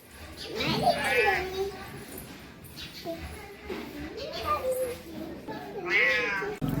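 A house cat meows several times in drawn-out, wavering cries at close range, with children's voices chattering around it.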